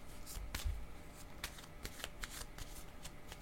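Tarot cards are shuffled and drawn by hand, making quiet crisp riffles and a handful of sharp snapping flicks at uneven intervals, close and soft.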